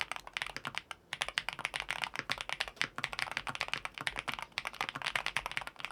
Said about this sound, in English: the Sly 75 HE, to be specific with the Jade Pros. It just fit the keyboard so well, it's so creamy, it does sound a little deep